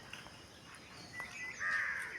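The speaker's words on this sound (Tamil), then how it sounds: "எவ்வளோ பேர் வந்திருக்காங்க பாருங்கள். காக்கா, குருவி." Crows caw in the open, several harsh calls from a short distance, with the loudest drawn-out caw near the end over faint background noise.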